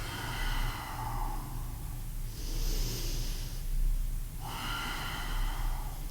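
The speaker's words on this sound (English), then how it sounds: "3 or 4 breaths" Heavy breathing during a held core exercise on a mat: a few slow, loud breaths in and out through the nose and mouth, close up and alone, each with an airy, snorting rush.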